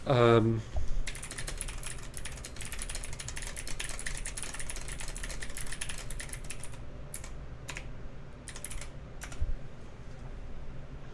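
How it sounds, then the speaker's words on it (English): Rapid, steady computer-keyboard typing with a few pauses near the end, fairly close, while a Marvel vs. Capcom Infinite team tournament stream plays, with a faint low hum underneath. "I'm going to type that."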